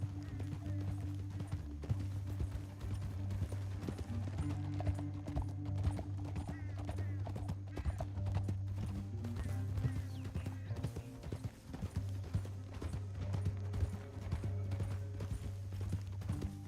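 Horse hooves clip-clop steadily through a Red Dead Redemption 2 canyon ride, a continuous rhythmic trotting that stays fairly loud and close over a low droning game score, with no talk.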